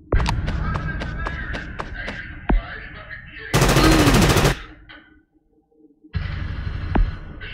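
Gunfire in the war video game Frontline Tactics: rapid machine-gun bursts and single loud shots, a heavy thud, a dense blast of noise, then a brief lull before more firing, with someone talking in places.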